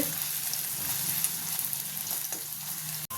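Chopped onion pieces fry in a pan with clove, cardamom and cinnamon, giving a steady, close hiss of sizzling oil with faint stirring; one brief dropout near the end.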